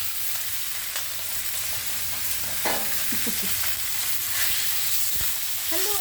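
Lean meat frying and being stirred in a pan for a vegetable dish, a steady close sizzle with scraping stir strokes running throughout the stretch.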